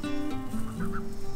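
A free-ranging goose gives a few nasal, wavering honks close by, drawn-out tones over a low hum from the surroundings.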